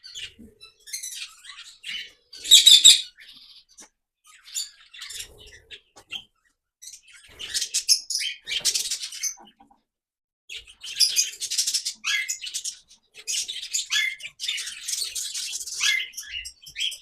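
Parrots and budgies chirp in an open aviary, with bright, scattered tweets and twittering calls in irregular bursts, some close and sharp, others softer, separated by short quiet gaps.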